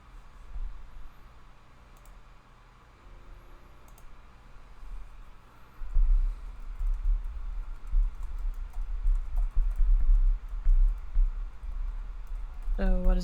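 Keys clack on a computer keyboard in quick, uneven bursts of typing, close and fairly loud, with quiet background talk early on.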